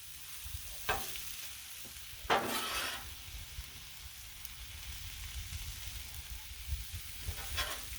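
Onions, peppers and beef sizzle steadily on a Blackstone griddle, a constant fry hiss punctuated by a few sharp scraping stirs of a spatula, close and unaccompanied by speech.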